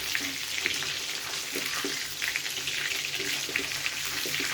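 Chicken lollipops fry in hot oil, giving a continuous bright sizzle with crackling pops throughout, loud and close.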